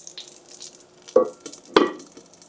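Shishito peppers blistering in a hot skillet give a soft, steady sizzle broken by two sharp, close pops a short moment apart.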